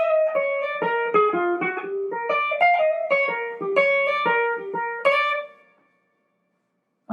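A western swing lead guitar lick, bright clean single notes and double-stops played alone at moderate volume for about five seconds, then ringing out into silence.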